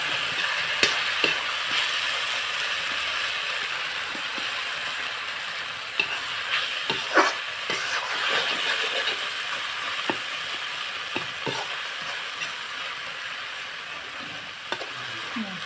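Purslane greens and tomato sizzle steadily as they fry in a pan, with a spatula scraping and clicking against the metal at irregular intervals, close and continuous.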